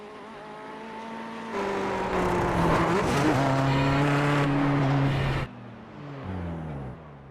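Ferrari race car in a racing video game sliding into a slow oversteer spin, a high engine whine and screeching tires rising loud for a few seconds, then the engine dropping back to a lower drone.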